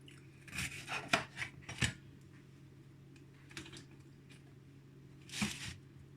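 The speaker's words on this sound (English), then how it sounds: "So you dice your pepper and you put it on there." A knife dices a red pepper on a cutting board while preparing African bean cake, giving a few quiet, irregular clusters of sharp chopping taps separated by pauses, over a faint steady room hum.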